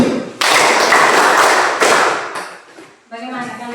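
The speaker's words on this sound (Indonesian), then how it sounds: "1 kali tepuk lagi untuk kita semua" Classroom full of students clapping together in a burst of applause, loud and close, fading toward the end before a teacher's voice comes in speaking.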